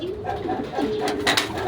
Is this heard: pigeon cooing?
yes